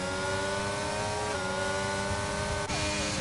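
F1 22 race cars at the Miami Grand Prix scream through the corners in a loud, continuous, high-revving engine whine, with a quick gear shift near the end.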